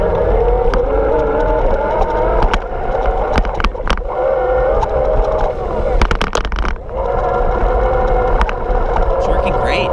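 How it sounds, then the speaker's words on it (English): A Blix Vika electric bike motor pulls on throttle at the highest assist level up a sandy driveway, its steady whine rising under loud, rumbling wind and road noise, with a few sharp knocks along the way. "You can hear the motor. I'm in the highest level of assist, and I'm going to use the throttle to climb this driveway"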